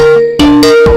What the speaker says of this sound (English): That's the phone. Someone's calling.